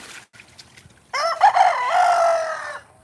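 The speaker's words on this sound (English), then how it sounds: "There's the chicken with the messed up eye." A chicken, one with an injured eye, in a rainy backyard fruit garden lets out a single loud, drawn-out call lasting about two seconds after a quiet start, heard alone and close.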